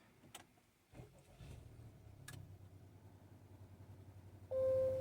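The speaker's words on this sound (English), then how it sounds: "So let's go ahead and start the car." An Acura RDX engine cranks and catches, settling into a low idle rumble, followed by a steady electronic chime tone at the end.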